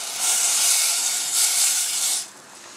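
Water poured into a hot pan while making a Moroccan-style baked pasta gratin hisses in a steady, loud sizzle close by for about two seconds, then eases off to a quieter simmer.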